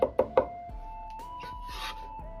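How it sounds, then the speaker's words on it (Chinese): A knife chops smashed garlic finely on a cutting board: three sharp, close chops in quick succession, followed by quieter scraping and light knocks over a low background hum. "然后剁碎，而且一定要剁细点，这样更容易出香味"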